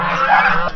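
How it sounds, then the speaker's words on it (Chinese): Many geese honk loudly and continuously at a chicken farm at the foot of a hill, a dense, close chorus of overlapping calls with no talking. "你看这个鸡场还有鹅，特别多的鹅"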